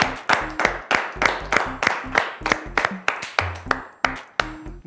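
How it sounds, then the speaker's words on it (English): An audience claps in a sharp rhythm with a bright electronic ping on each beat, loud and steady for about five seconds. The applause is for the number team on a children's quiz show. "Let's clap for them."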